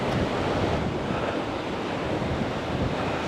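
Floodwater surges through a desert canyon in a loud, constant roaring rush, with gusty wind buffeting the microphone.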